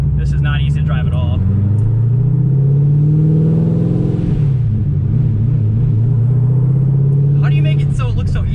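A 1000 wheel-horsepower Corvette's engine rumbles and revs loudly up close, a deep rising and falling drone sustained for several seconds, with brief talk at the start and end.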